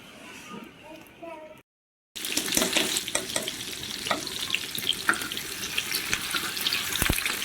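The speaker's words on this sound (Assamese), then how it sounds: "এতিয়া দালিখিনি তেলত দি দিম।" Spinach dal (Assamese paleng dal) hitting hot oil gives a steady broadband sizzle and frying crackle with sharp pops, starting after a brief gap of silence and continuing close and fairly loud to the end.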